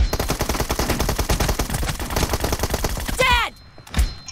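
Rapid automatic gunfire in a mobile shooter game team deathmatch, dense loud bursts of shots for about three seconds, then a brief electronic sweep and a lone final shot.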